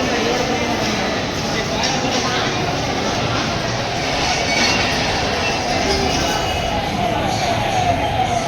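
The Mayiladuthurai–Coimbatore Jan Shatabdi express rolls along with a steady, dense rushing rumble of wheels and carriage noise, heard continuously at fairly close range without pauses.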